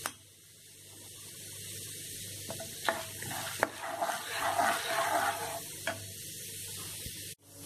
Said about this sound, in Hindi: ज़्यादा नहीं भूनना है, हल्का फ्राई करना है इसे।